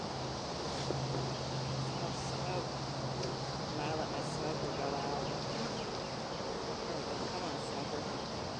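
Honey bees buzz steadily all around during a hive check, a constant droning hum close by, with faint outdoor noise beneath.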